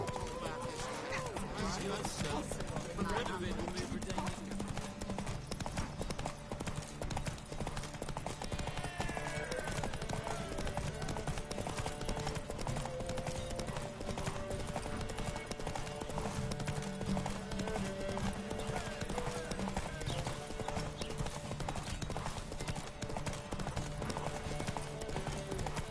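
Horse hooves clip-clop steadily under a ride in The Witcher 3: Wild Hunt, backed by continuous game music and speech.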